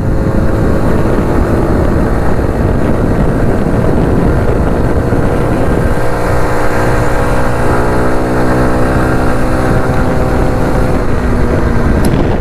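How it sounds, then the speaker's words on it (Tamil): A 2025 TVS XL 100 moped with alloy wheels runs flat out on a top speed test, its small engine giving a loud, steady drone with a shifting pitch and wind rush throughout, with no talking. "XL 100ஓட டாப் ஸ்பீடுலாம் கண்டிப்பாக ஓகே நம்ம பண்ணி பார்க்கலாம்."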